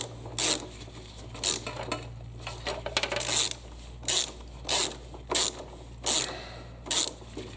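A ratchet with a 6mm socket tightens a part on a Toro CCR 2000 snowblower, giving close, crisp clicking bursts in a steady back-and-forth rhythm of about eight strokes, with no voices.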